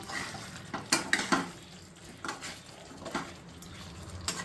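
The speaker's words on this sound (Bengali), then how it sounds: "সবগুলোকে একবার একটু মিশিয়ে দেবো।" Potato curry (aloo dum) being stirred in a pan at home, with soft scraping and a few clinks of a utensil against the pan over a quiet background.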